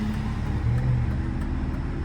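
A BMW E39 sedan cruises at night, heard from inside as a steady low engine drone with road noise and no talk.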